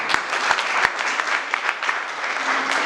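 Applause from a crowd at a Christmas interfaith gathering held in a press club, dense steady clapping with a few sharper claps standing out, sustained throughout at moderate loudness.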